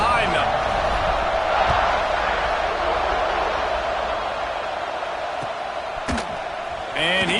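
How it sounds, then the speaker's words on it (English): A college football stadium crowd at Georgia vs Ole Miss roars in a broad sustained wash before the kickoff, loud and constant, with a commentator talking over it and a few sharp thuds near the end. "this crowd now ready to get behind them"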